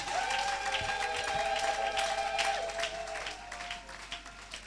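A church congregation at a French-language service applauds, a sustained wash of clapping from a crowd that gradually thins, with a faint held tone beneath.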